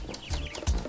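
Hens clucking on a farm among chicks and pigs, two short bursts of clucks a few tenths of a second apart, fairly close and clear with no talk.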